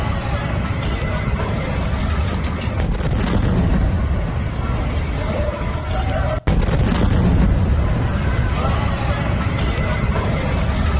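Explosions from Israeli air strikes in Lebanon come as a continuous loud, rumbling roar with a sharp break partway through, heavy low-end noise dominating throughout.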